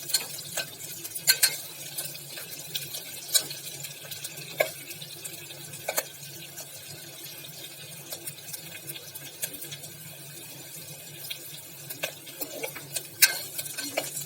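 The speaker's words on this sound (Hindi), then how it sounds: "थोड़ा तेज सेक कर देंगे प्याज को हल्का गुलाबी करने के लिए।" Chopped onions frying over high heat for Kashmiri vegetable pilaf (bhuzbhatta), a steady soft sizzle with frequent clicks and scrapes of stirring against the pan, close and alone without talk.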